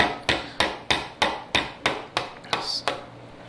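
A chisel is struck with a mallet while a wooden tenon is cut by hand for a workbench build: eight sharp, evenly spaced knocks, close and loud, each ringing briefly, with no talk.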